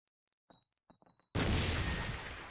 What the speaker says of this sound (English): Check out his nade towards that link area